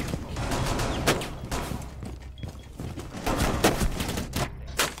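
Gunfire in Rainbow Six Siege, with dense bursts of shots and rattling fire throughout, loud and close, plus sharper cracks near one second and again around three and a half seconds.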